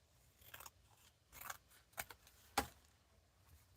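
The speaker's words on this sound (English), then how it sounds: "Let me trim this again because I got that a little bit big." Scissors cutting through cardstock during papercraft, several crisp, quiet snips spaced about half a second apart with one sharper cut near the end, no voices.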